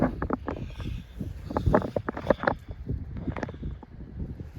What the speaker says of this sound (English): the wind's really bad